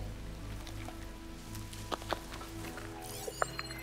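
Steady hiss of rain in the video game Horizon Forbidden West, with faint scattered drips and taps over a low droning background hum; no talking.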